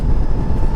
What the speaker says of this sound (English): any noise you hear is just straight wind noise.